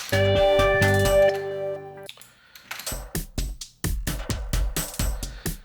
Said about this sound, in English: what you're hearing there is multiple patterns laid over the top of each other